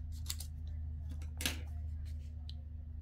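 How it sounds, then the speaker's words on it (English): Scissors snip through paper during a 12x12 paper journal craft project, a few short crisp cuts close up over a steady low background hum. "And I can just cut that off."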